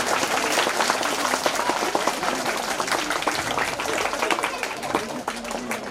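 Schoolchildren at a school event clap loudly and energetically, a dense, close, continuous burst of applause with some voices mixed in beneath it.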